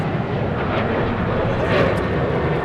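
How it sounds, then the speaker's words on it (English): A United Boeing 787-9 Dreamliner pushes back at the airport, its engines giving a steady broad roar throughout a short stretch with no clear speech. "We got the United Dreamliner pushing back. That's a 7879."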